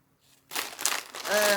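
A plastic bag crinkles as it is handled inside a larger bag, giving a brief burst of close, crisp rustling. A voice starts near the end.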